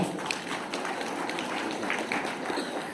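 Dinner audience applauding a company chairman at a Borneo smart vending event, dense steady clapping from many hands, sustained throughout.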